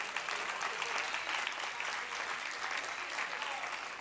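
A church congregation claps hands to God during a sermon, a dense, sustained burst of applause heard evenly and fairly loud from start to finish, with some crowd noise mixed in.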